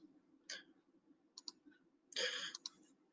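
Computer keyboard keys and mouse buttons clicked while entering an algebra answer, a few light separate clicks followed by a denser cluster of quick taps, close and quiet with no voice.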